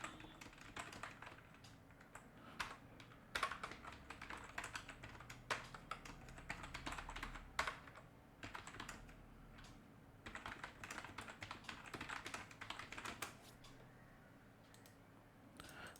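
Close, steady typing on a computer keyboard, with irregular bursts of crisp key clicks and brief pauses throughout, with no voice.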